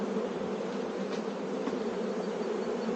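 Honeybees buzz in a steady, dense hum from an opened beehive, continuous and close throughout with no voices.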